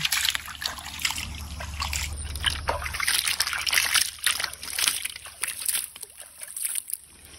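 Fish being let go into a large pond set off irregular small splashes, trickles and sloshing water, fairly quiet and close, with a low rumble underneath for the first few seconds.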